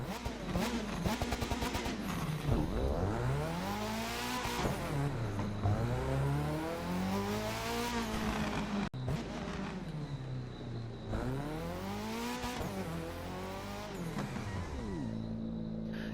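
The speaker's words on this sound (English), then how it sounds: "let's just listen to this engine." In the racing game The Crew 2, a 2017 Ford Fiesta rally car engine revs hard and loud, sweeping up and down through repeated rises with a brief cut before climbing again.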